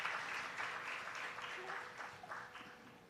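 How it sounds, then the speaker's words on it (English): An audience applauds after a Bharatanatyam dance presentation, steady clapping from a crowd that stays fairly even and moderately distant throughout. "And that calls for a huge round of applause."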